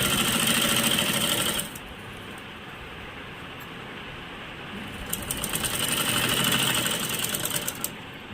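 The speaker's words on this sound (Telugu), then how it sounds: "నేను జిగ్జాకి ఇవ్వకుండానే మిషన్ మీద కుట్టుకుంటాను" A sewing machine stitches a fall onto a saree without zigzag, whirring steadily and close in two running bursts with a quieter pause between them.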